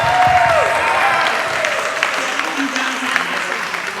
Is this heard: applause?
yes